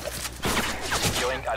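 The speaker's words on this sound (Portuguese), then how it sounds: "Quem tá atirando? Acho que é o cara do nosso time mesmo." Bursts of automatic gunfire in a multiplayer shooter match, crackling in quick volleys close by while players talk over it.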